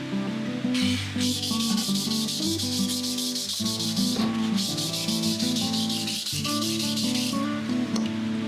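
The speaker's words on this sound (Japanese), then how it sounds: "サビを1000番の耐水性のサンドペーパーで落とします。" Rust being sanded off a part of a restored Mitsubishi Mini tiller with 1000-grit waterproof sandpaper, a steady close rubbing scrape in long repeated strokes that pause briefly between passes, with no talking.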